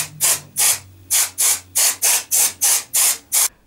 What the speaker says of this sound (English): Blow air through the processor's heatsink too.